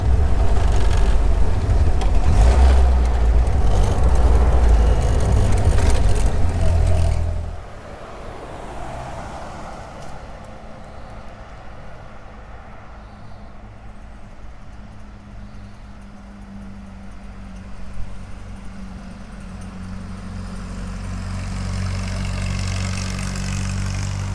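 A 1951 Willys Jeepster Phaeton engine runs loud and rough up close as the car pulls away in second gear, then drops to a quieter, steady running hum.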